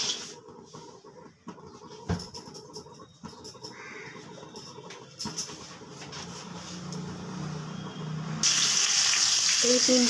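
Crows caw nearby while aar fish coated in salt and turmeric fries in a pan. A low sizzle grows much louder and hissier near the end.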